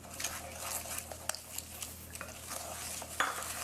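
A utensil stirs beaten eggs and sugar in a bowl for molasses brownie batter, giving soft irregular scraping and light clinks against the bowl, quiet and close with no talk.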